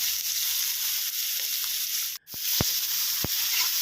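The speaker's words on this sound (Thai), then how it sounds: "ผมตามด้วยใส่หมูที่เราหมักลงไปนะครับ" Marinated pork stir-frying with red curry paste in a hot pan, a steady loud sizzle with a brief cut and a few soft scrapes of stirring.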